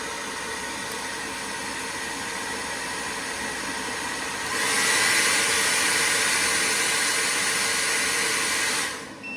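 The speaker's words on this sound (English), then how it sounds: "now I'm going to give it a hit with the hairdryer right here" A hair dryer powered by a portable power station blows steadily with a broadband rushing hiss, then jumps to a louder, higher setting partway through before cutting off near the end.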